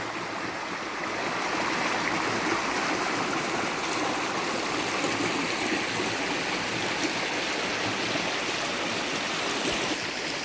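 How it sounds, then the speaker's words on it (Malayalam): A stream flows beside a cardamom plantation in Idukki, making a steady, close, rushing babble of water that continues evenly throughout, with no voices. "നമ്മുടെ സ്ഥലത്തിൻ്റെ സൈഡിൽ കൂടെ തന്നെ തോട് ഒഴുകുന്നുണ്ട്"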